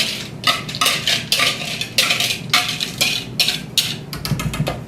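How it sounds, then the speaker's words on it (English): Dry baking ingredients stirred together in a bowl, a loud, close run of scraping and clinking strokes in a steady rhythm, each pass a bright rasp of utensil against the bowl. "we're going to take our dry ingredients and we are going to combine those all into one bowl"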